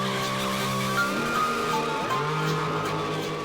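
A car doing donuts on a Florida street, its tires skidding and squealing continuously in a loud, sustained whine that bends in pitch as the car swings around, with engine drone underneath.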